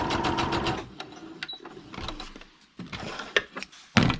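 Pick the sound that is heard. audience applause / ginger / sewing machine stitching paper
sewing machine stitching paper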